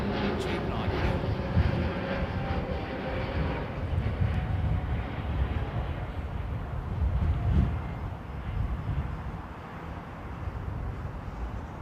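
A Boeing Dreamliner airliner departing Heathrow gives a broad, steady engine roar at moderate distance, with people talking over it.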